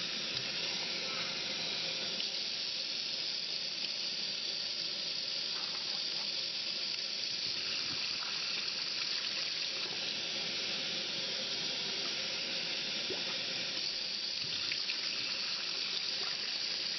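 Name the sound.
cold tap water added to pot of cooked pasta shells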